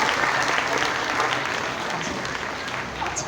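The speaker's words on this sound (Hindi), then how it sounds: "तालियां बजाइए भाई एक दफ़ा फिर।" An audience at an Independence Day celebration in a provincial office in Karachi applauds the chief guest, a dense, even wash of clapping that holds steady and fades slightly toward the end.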